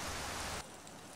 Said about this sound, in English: Get this rain out of here, bro.